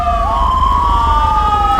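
An ambulance siren in the GTA V LSPDFR police mod wails loudly and continuously over a low engine drone, its tone sweeping steadily through the whole stretch.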